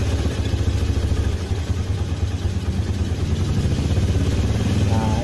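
A Honda Jupiter Z motorcycle engine, fitted with a DC coil converted to fullwave, runs loud and close in a steady, throbbing drone that climbs slightly near the end as the throttle opens.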